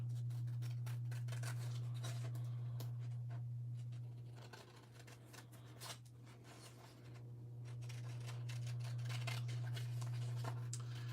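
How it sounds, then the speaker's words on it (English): Scissors snip steadily around a traced egg shape on an Easy Cut adhesive sheet, with quick close cuts and paper rustling over a constant low electrical hum. "I'm just going to go ahead and I'm going to quickly cut around."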